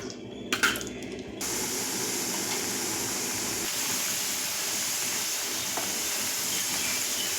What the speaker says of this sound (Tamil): கொஞ்சம் வறுத்து எடுத்துக்கலாம்